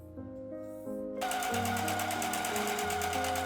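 A sewing machine runs a steady top stitch along a folded denim tote bag strap, the needle rattling in a fast, even rhythm close up, with a brief slower start before it picks up speed.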